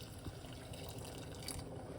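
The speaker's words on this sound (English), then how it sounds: "Let's put a little bit more hot water" Hot water pours steadily into a container while making cerasee tea, a soft continuous splashing and trickling at close range.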